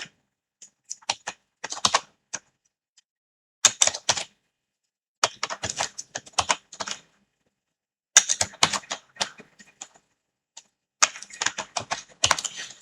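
Someone types on a computer keyboard, with quick crisp clicking bursts separated by short silent pauses, close and fairly loud, with no talk.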